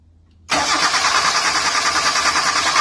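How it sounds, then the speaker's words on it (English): A car engine under a seized-engine test is cranked with the starter: after a brief quiet moment it kicks in abruptly into a loud, steady whirring churn that continues unbroken to the end. "Now I'm gonna try to crank this engine and we're gonna measure the amps."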